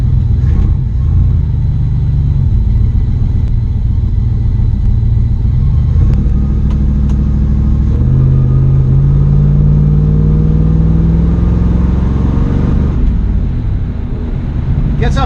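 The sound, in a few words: 1965 Ford Mustang engine running and revving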